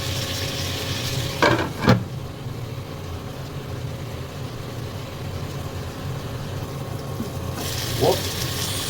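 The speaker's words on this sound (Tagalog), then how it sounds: "Okay, stir fry natin muna siya." Pork paksiw with okra stir-frying in hot oil, a steady sizzling hiss with a few sharp spatula scrapes and clatters near the start and end.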